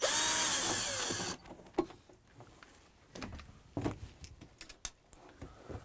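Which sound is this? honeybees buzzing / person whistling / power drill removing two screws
power drill removing two screws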